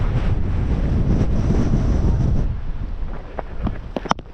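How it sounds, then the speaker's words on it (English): Strong gale-force wind buffets the microphone on an open cricket field, a loud continuous roar that eases slightly toward the end, broken by a few sharp knocks. "the wind is constant"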